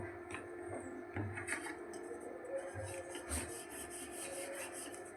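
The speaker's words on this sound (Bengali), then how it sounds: "এবার এটাকে আমি বেলে নেব" A rolling pin working tomato paratha dough on a board, soft repeated rubbing and rolling strokes in a quiet kitchen, close but faint, with no voice over it.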